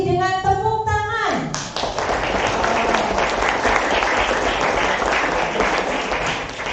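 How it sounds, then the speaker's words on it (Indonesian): Students at SMK Negeri 7 Semarang applaud a guest speaker, a loud, dense crowd clapping that swells in just after a short stretch of speech and carries on steadily to the end. "Kita sambut Bapak Aji dengan tepuk tangan."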